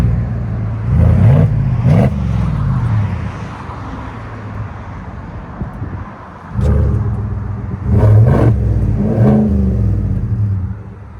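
A 2023 GMC Yukon Denali with a 6.2L V8 and a Flowmaster FX cat-back exhaust rumbles steadily, with two pairs of louder revs swelling up near the start and again toward the end.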